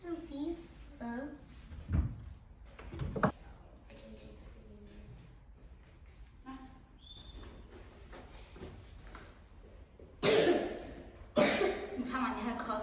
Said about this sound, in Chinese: 你看嘛，你还咳嗽，你还要去。